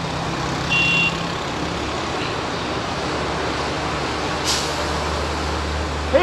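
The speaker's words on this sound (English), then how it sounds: "I don't want to be on the side of this truck." A big truck rumbles close by in busy Chinese city traffic, a low heavy engine drone with a brief high beeping tone early on and a short hiss near the middle, and no talking.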